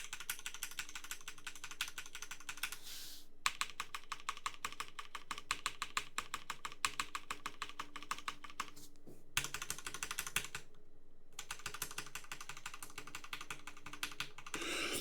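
Keys clack on an Eclipse TKL Ragnarok Edition mechanical keyboard, with the backspace key pressed in a fast, steady stream of crisp clicks. Two brief pauses break the run, and nobody speaks.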